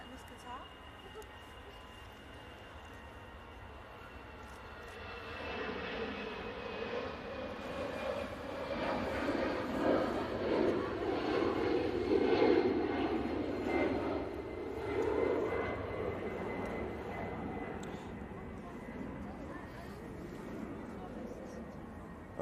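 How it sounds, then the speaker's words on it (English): An EasyJet passenger jet taking off at Manchester Airport, a distant engine roar that swells from a low rumble to a sustained broad whoosh mid-clip and then slowly fades, with people talking faintly over the top. "EasyJet taking off."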